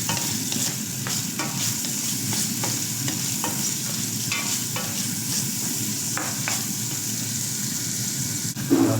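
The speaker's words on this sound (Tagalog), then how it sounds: "mag-gisa naman tayo ng bawang sibuyas." Garlic and onion saute in a pan for pork igado, a loud, constant close sizzle with quick rhythmic stirring scrapes running throughout and a small clatter near the end, no voices.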